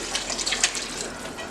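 Hot water pours from a cup into a pot of browned meat and tomato paste for spaghetti meat sauce, a soft, fairly quiet splashing gush.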